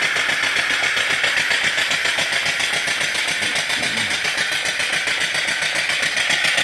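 A live steam engine with a lubricator oiler runs steadily, giving a fast, even chuffing and mechanical clatter that is loud and constant throughout, with no talk.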